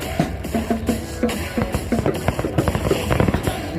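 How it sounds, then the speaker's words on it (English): Fireworks bursting at the Honda Celebration of Light in Vancouver, Nova Scotia's display on day three: a dense run of booms and crackles, many overlapping explosions at steady loudness, with faint crowd noise underneath. "day 3 always has the best fireworks"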